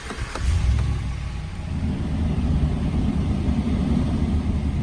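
A 2016 Ram 1500 SLT crew cab pickup engine cranks and catches, then settles into a low, steady rumbling idle close by, with no talking.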